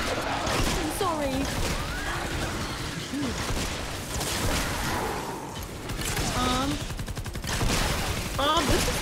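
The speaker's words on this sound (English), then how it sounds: "I've been shooting this one guy the whole time" Gunfire in the video game Fortnite while shooting at an enemy, dense rapid bursts over a loud, busy game soundscape with voices talking throughout.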